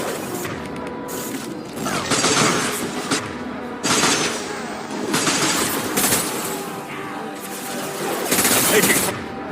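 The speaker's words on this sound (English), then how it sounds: "Firing an impact gun." Impact gun fire in the video game Mass Effect 2: several loud, dense bursts of mechanical rattling shots in rapid clusters, separated by short lulls, with game sounds underneath.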